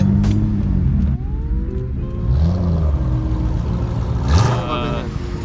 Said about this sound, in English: And the Hondas are revving and two-stepping.